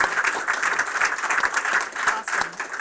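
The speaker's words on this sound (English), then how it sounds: "Can I have a big round of applause for everybody who contributed?" Applause from an indoor audience at a summer game-pitch event, broadband clapping sustained evenly throughout at moderate loudness with no talk over it.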